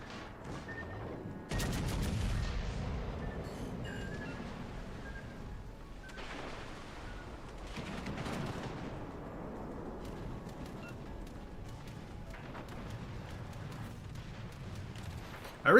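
Enemy warship guns fire in World of Warships: Legends, with scattered booming salvos and crackling shots of varying loudness over a low battle rumble, some bursts heavier than others.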